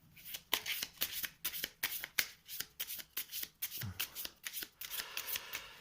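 Advanced skill cards for The 7th Continent board game are shuffled by hand, a close, crisp series of regular papery snaps and riffles, about two per second, loud and clear with no talking.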